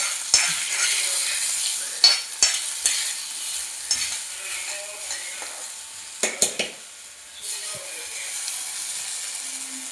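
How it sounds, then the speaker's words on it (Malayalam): Mustard seeds, dried red chillies and curry leaves sizzle and crackle in hot oil in a pan, a steady hiss broken by sharp pops and a few stirring scrapes. "അത് പൊട്ടി കഴിഞ്ഞാൽ ഉണക്കമുളക് ഇടുക, പിന്നെ കറിവേപ്പിൻ്റെ ഇല ഇടുക"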